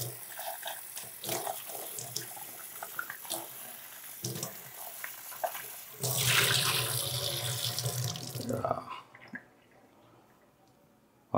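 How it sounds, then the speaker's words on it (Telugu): Tap water runs and splashes as brinjals are washed under it in a home kitchen, with a steady flow that surges louder near the middle and then stops, and a voice talks faintly at times. "వంకాయలు కడిగేసుకుందాం."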